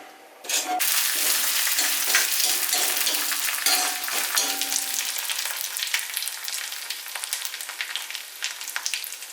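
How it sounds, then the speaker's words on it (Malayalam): Mustard seeds sizzle and crackle in hot oil in a pan, cooked for a Malayalam purple yam (kachil) biriyani. A loud sputtering fry begins sharply and holds steady, with dense popping that eases slightly toward the end, no voices. "അപ്പം ഇനി നമുക്കതൊന്ന് കടുക് വറക്കാം"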